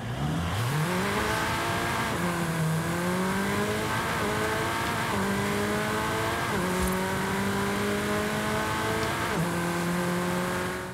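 An MG MG7 car engine in the video game Forza Horizon 5 revs and shifts through gears repeatedly, pitch climbing then dropping with each change, loud and continuous with a steady background roar.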